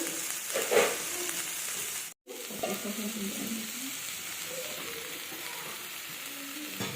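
Punko greens fry in a pan with a little oil and poppy-seed paste, giving a close, steady sizzle that cuts out briefly before resuming.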